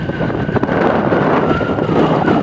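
Strong, steady wind roars across the microphone in a dense, continuous rush, with a faint engine-like rumble underneath and no voices.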